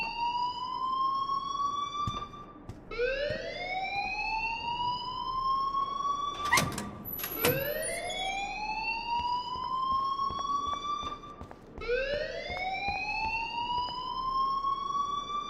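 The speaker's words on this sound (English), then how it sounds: "please turn off that alarm since that's your job" A school alarm in the video game Life Is Strange wails in repeated rising siren sweeps, each climbing and holding before restarting, loud and close, broken once by a sharp noisy burst midway, with no speech.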